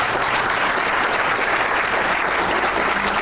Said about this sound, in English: That's, I think, worth an applause.